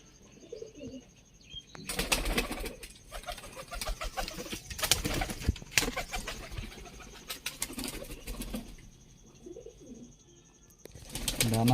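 Dubai breed high flying pigeons, handled close up, with bursts of wing flapping and rustling in the middle, interspersed with soft low cooing and a faint steady background tone.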